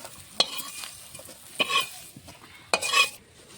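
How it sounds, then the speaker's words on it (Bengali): Shrimp shells frying in a pan with cumin, garlic and chilli, stirred with a utensil; sharp scraping strikes land at intervals over a low, steady sizzle, with no talking. "জিরে দিয়ে রসুন, লঙ্কা, মাছের খোসাটা বেশ ভালো করে ভেজে নিয়েছি"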